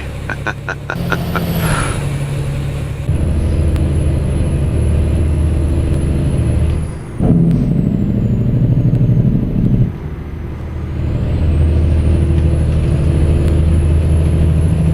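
A heavy truck hauling an excavator at 38,000 pounds drones steadily in American Truck Simulator, with a loud engine rumble, a sharp air-brake hiss, and shifting whine through the run.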